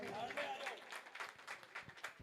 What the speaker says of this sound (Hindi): और एक बार हमारे ध्रुव भैया के लिए भी जोरदार तालियां बजाइए।